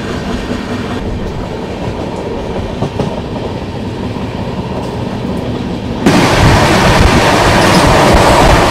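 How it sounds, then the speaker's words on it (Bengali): A train rumbles steadily along the rails with a constant roar, leaving Howrah aboard the 12369 Kumbh Express, growing noticeably louder and brighter near the end as if passing into a noisier stretch. "এই ট্রেনটা এখন যাচ্ছে হাওড়া স্টেশনে।"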